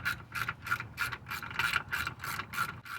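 A tool backs out 12mm shield bolts under a Hyundai Santa Fe, giving rapid rhythmic ratcheting bursts roughly three per second, close and steady, with no talking.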